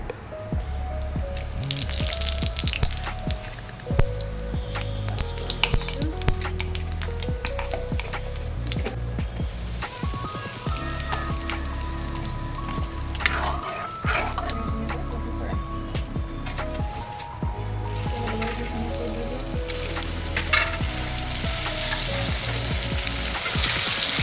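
Bay leaf and panch phoron spices sizzle in hot oil for a jujube pickle, a steady, close crackling fry with light stirring that lasts the whole time.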